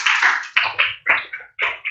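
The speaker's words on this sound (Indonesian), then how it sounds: "tepuk tangan untuk rekan Anda" A small classroom group of teachers claps for a colleague in several short, close bursts separated by brief gaps.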